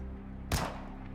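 A single sharp, distant-sounding gunshot crack from the video game Goddess of Victory: NIKKE, brief and moderately loud over a steady low background hum.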